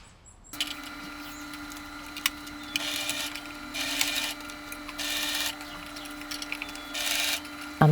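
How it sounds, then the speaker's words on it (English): A sewing machine stitches a folded-in dress seam on a puff-sleeve dress, running in several short bursts over a steady motor hum, close and moderately loud with no speech. "I fold inwards and I sew again."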